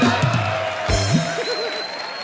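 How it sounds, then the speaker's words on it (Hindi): Studio audience at a Hindi comedy show breaks into applause and cheering, a broad crowd wash with a few whoops, while a voice speaks briefly at the start. "जोरदार तालियां"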